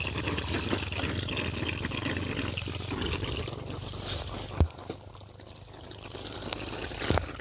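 Irrigation water flows steadily into a farm field, a continuous close wash and gurgle of running water with a couple of brief knocks, and no talk.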